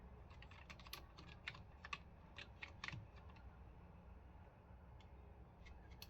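Rapid keystrokes on a computer keyboard while entering text in Microsoft Word, a steady run of light clicks over a low background hum.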